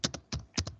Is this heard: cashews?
no